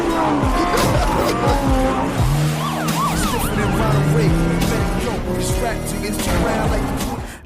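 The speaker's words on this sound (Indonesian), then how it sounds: "tokoh utama lain yang melaju kencang dengan Lamborghini, berhasil mengecoh kejaran polisi" A Lamborghini speeds and skids through a police chase, tires squealing in loud rising and falling screeches over a constant engine roar, with a siren wailing in the mix throughout.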